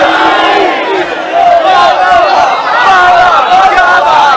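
A crowd at a Jashan-e-Sadqain Milad gathering on 17 Rabi ul Awal roars back the Naara-e-Haidari chant, massed voices shouting loudly in sustained waves that briefly dip before surging again.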